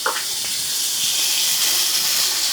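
Food sizzling hard in a very hot skillet, a steady bright hiss of frying that holds loud and even throughout with no talking.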